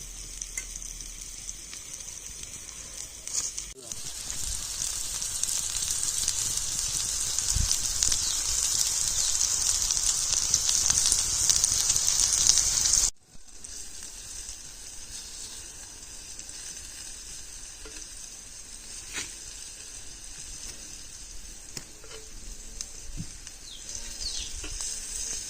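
Chicken pieces deep frying in hot oil, Kaul chicken fry done village style, give a steady loud bright sizzle that drops suddenly to a quieter, continuous crackle partway through.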